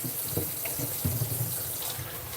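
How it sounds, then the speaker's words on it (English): Tap water runs steadily into a kitchen sink during handwashing, a constant close splashing hiss with small splatters and no voices. "Oh, I keep saying I'm gonna wash my hands."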